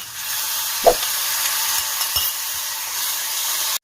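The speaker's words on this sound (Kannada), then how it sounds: "ಒಗ್ಗರಣೆಯಲ್ಲಿ ನಾನು ನೆನೆಸಿಟ್ಟಂಥ ಮಾವಿನಕಾಯಿ ನೀರನ್ನು ಇದ್ದೀನಿ" Soaked raw-mango water hits a hot tempering in a pan and erupts in a loud, steady sizzle and crackle. Two brief stirring clunks come partway through before the sound cuts off abruptly at the end.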